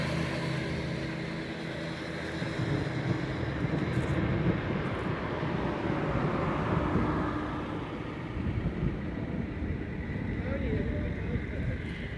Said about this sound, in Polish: wiatr się zaczyna ruszać.